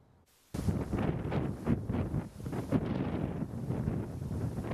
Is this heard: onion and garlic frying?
no